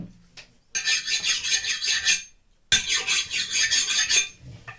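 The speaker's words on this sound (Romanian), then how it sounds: "După călirea care am făcut-o, vă pot arăta și cu pila aceasta de drujbă." A chainsaw file rasps across a freshly hardened axe edge in two bursts of quick, scratchy back-and-forth strokes, close and bright, separated by a short pause.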